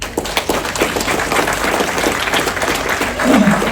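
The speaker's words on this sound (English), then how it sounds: "give yourself a round of applause for what you're doing here" Audience applause at a health and wellness event fills the room, steady dense clapping from a seated crowd that swells slightly louder near the end.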